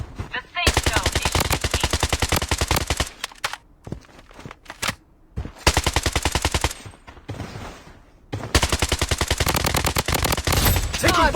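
Rapid automatic gunfire from a SCAR rifle in the shooter game BloodStrike, three long loud bursts separated by short gaps, close and dominant.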